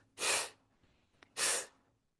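Two sharp, forceful breaths drawn in quickly, a second apart, close and loud, with a faint click between them and no talking.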